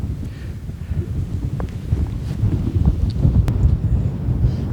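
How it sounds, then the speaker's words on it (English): Strong wind on a Scottish Highlands mountain top buffets the microphone in a low, rumbling roar, gusting loud and unbroken throughout with no voices. "As you can probably tell, it's very windy up here."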